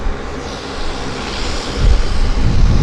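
A WestJet airliner departs Vancouver YVR airport, its jet engines a loud, steady roar under wind noise that swells and deepens toward the end.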